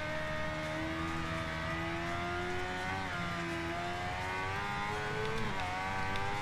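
A Kawasaki H2R superbike engine in a racing video game holds a steady high-pitched whine that rises and dips with throttle through a corner, loud and continuous without talk.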